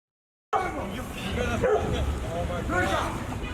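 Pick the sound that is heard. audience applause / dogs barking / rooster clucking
dogs barking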